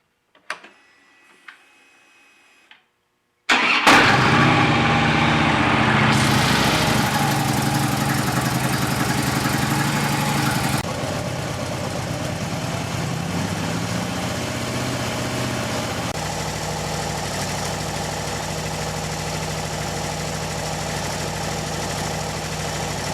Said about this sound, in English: Now you want to start the bike and you want to warm it up to operating temperature.